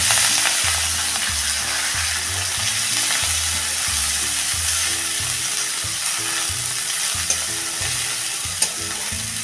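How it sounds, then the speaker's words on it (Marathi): Chopped green chickpea greens sautéing in a pan with garlic and long-cut green chillies, a loud continuous hiss of frying with repeated scraping and stirring strokes throughout and no talk. "भाजी चांगली खाली बसेपर्यंत परतत राहायचं आहे"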